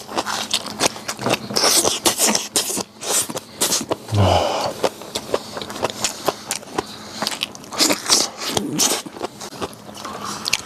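Crunchy pig ear cartilage, dipped in salt and pepper and cut from a braised pig's head, being chewed up close in a run of sharp, repeated crisp bites and crackles.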